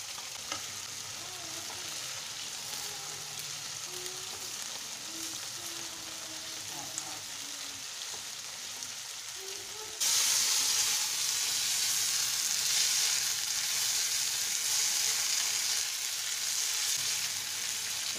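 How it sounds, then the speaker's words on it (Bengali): Vegetables fry in about three large spoonfuls of oil in a pan, a steady crackling sizzle with occasional stirring scrapes, growing suddenly louder and brighter midway and holding close and continuous. "সবজিগুলো আমি সব এটাতে কষতে দেবো। 3 বড় চামচ মতন তেল নিয়েছি।"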